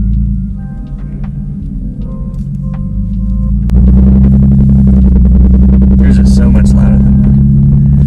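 A Lexus IS300 engine fitted with exhaust headers idles with a low rumble, then revs up loudly partway through and holds a throaty, roaring drone; a voice talks briefly near the start.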